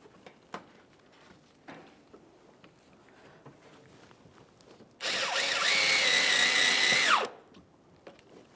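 A power drill drives a screw into the front bumper cover of a 2003-2007 Honda Accord, one loud two-second whir that rises and stops, between quiet stretches of faint handling noise.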